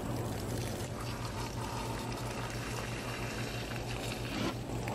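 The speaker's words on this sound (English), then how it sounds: "Pouring out jug number five here." Water glugging out of a plastic milk jug after a gunshot test, a continuous loud gurgling, splashing pour with a steady low hum beneath it.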